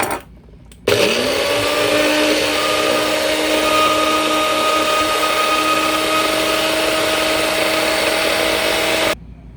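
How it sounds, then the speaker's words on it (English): A food processor crushes ice for Guyanese snow cones, its motor starting abruptly after a brief quiet and grinding loudly and steadily with a whining hum, then cutting off near the end. "let me see how this ice can blend in this food processor"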